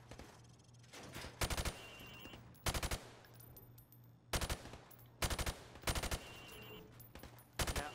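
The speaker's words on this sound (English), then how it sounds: "Now, shoot at the targets while firing from the hip." Rifle fired from the hip at targets on a Modern Warfare Remastered shooting range, loud close bursts of rapid automatic fire in short repeated volleys separated by brief gaps, with a faint hum between them.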